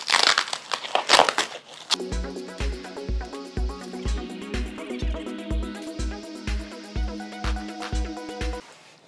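A star-shaped prop is unwrapped from crinkly packaging, giving a couple of seconds of close, busy rustling and crackling before steady rhythmic background music takes over.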